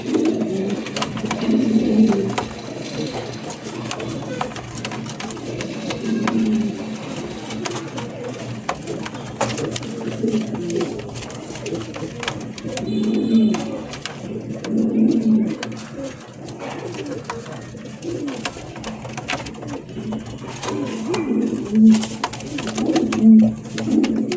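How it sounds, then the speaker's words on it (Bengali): A male pigeon coos repeatedly in low, throaty rolling calls at close range, the coos recurring every few seconds over quiet background noise. "আমি এখানে অন্য একটা কবুতর দিয়ে নরের ডাক ডাকটা আপনাকে শুনে দিচ্ছি"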